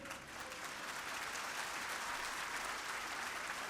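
Audience applause at a Gyan Ganga Mahotsav religious gathering in Nashik, India: dense, steady clapping from a large crowd, loud and continuous throughout.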